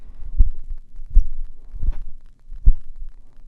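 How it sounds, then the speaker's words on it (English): Handling noise from a Shure SM7B dynamic microphone being grabbed: low, dull thumps and rumbles from hands shifting on the body, about four soft knocks over a few seconds, close and alone. "let's also have a look at the handling noise of the mic"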